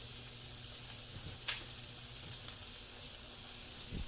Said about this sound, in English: These are going to saute for about a minute.